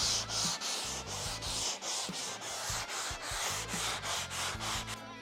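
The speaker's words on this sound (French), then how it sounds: "Et maintenant, main très légère, on va pouvoir finir de poncer notre touche." Hand sanding of a wooden key in a workshop, with light pressure and a steady run of rhythmic back-and-forth rasping strokes, close and alone, with no voices.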